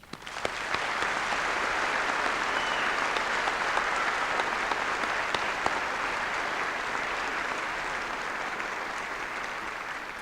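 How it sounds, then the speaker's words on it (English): A school music festival audience gives sustained applause welcoming 468 primary students onto the stage, a broad even roar of many clapping hands that swells in and holds steady for about ten seconds. "Please join me now in a round of applause to welcome the 468 students on stage."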